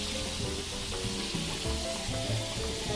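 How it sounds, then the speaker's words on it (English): Mushrooms sizzling and frying in a pan while being stirred, a steady loud crackle with soft scraping from the spoon, no voices. "Mixing our mushrooms again."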